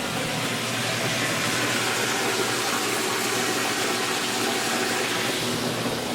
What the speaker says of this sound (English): To move the water over, I'll use my sump pump and a short hose